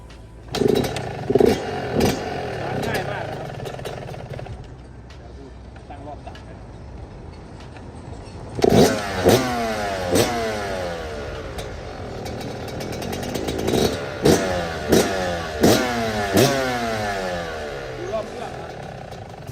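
A 2021 Yamaha YZ125 dirt bike engine idles, then revs hard in repeated sharp bursts, close and loud, with a short quieter pause between sets of revs.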